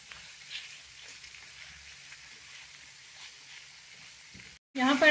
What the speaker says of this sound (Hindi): जैसे ही लहसुन हमारा अच्छे से सौते हो जाए इसके अंदर चिकन ऐड कर देंगे।